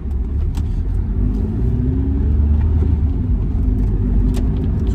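MG F sports car engine fitted with a cone air filter, a steady close rumbling drone of a mid-sized engine while driving, with slight rising revs partway through and no talk.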